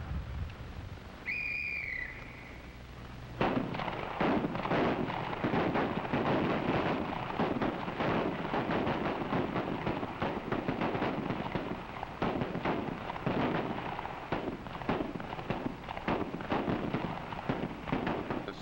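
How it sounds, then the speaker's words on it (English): After a brief whistle, rapid gunfire erupts and continues relentlessly, many overlapping shots cracking and echoing across an open range. "Sound of gunfire echoes across the range"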